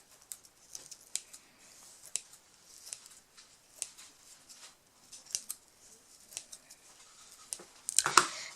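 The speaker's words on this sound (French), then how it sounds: "On prend les ciseaux, on va couper un petit peu là les bouts de colle qui se sont un peu décrochés ou autres." Small scissors snip loose glue bits and fuzzy string fibres from a handmade cardboard-and-string cat toy mouse. The sound is a quiet, close series of crisp, irregular snips, ending in a brief louder rustle.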